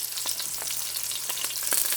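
Roughly chopped garlic sizzling in a pot for chicken and vegetable soup with lemongrass: a bright, crackling hiss with small pops, steady and close, and no voices.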